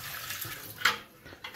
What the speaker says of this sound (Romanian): Golim toată apa din el.